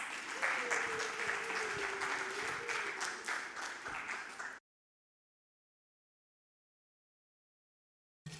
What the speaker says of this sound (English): So let's hear a round of applause for Pranav Desai, please.